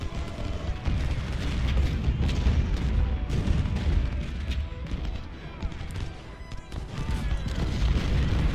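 Civil War cannon and musket fire in a strategy video game of the Battle of Malvern Hill, a dense continuous roar of booms and crackling shots, loud and unbroken for several seconds.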